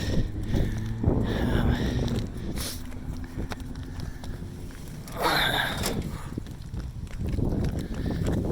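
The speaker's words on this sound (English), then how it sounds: "It's kind of windy today." Steady wind rushes and buffets the microphone throughout on a house roof, with scattered knocks and scraping noises from nearby removal of LED Christmas lights.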